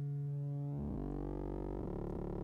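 Endorphin.es Godspeed+ synth module sine output with self frequency modulation: a clean low tone that abruptly turns into a dense, gritty, rumbling modulated sound, loud and close with no talk.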